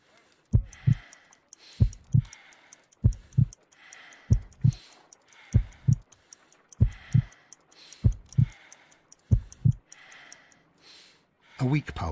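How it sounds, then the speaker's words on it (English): Heartbeat from a game scene with a dying character, a weak pulse of about 50 beats per minute, heard as repeated paired low thumps at a steady slow rhythm, with faint ticking above. "I need to concentrate and count the heartbeats."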